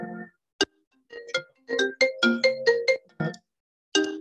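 A melodic phone ringtone sounds during a panel discussion among urban planners, a clear electronic tune of short bright notes playing alone in a quiet room.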